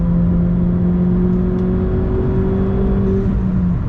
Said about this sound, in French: J'adore le petit bruit du turbo qui décharge à la fin.